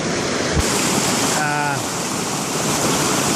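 A mountain creek along a Pacific Crest Trail road walk toward Seiad Valley rushes steadily in a loud, continuous broadband wash, with a faint brief tonal sound partway through.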